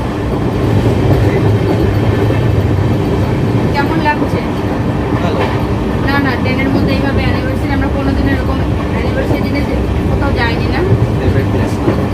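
A moving train rumbles loudly and continuously, with rhythmic clattering of wheels on rails and occasional squeaks, as if heard from an open door.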